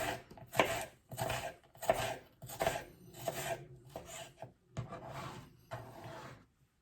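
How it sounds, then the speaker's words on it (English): A knife slices steadily through an onion on a cutting board for vegetable korma, with about nine crisp, evenly spaced cuts, each a short scraping chop, close and clear with no talking. "Sliced onion, again tuck the fingers in and just nice easy slices."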